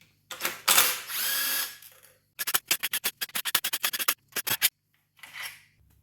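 A ratchet wrench works loose the upper oil pan fasteners on a BMW E46 during a V8 swap, giving a long grinding spin and then a quick run of sharp, close clicks, followed by a brief scrape.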